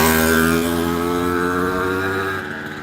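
Mopeds pass by on a newly asphalted road, a loud, close engine drone that rises and then fades away as they move off, with no one talking.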